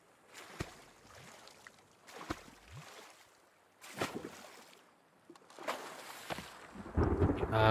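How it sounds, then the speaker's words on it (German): Thunder and rain in the survival video game The Forest: several broad rumbling bursts roll in over a soft rainy wash, with a heavier, louder rumble building at the very end. "Ah, geil, es regnet wieder."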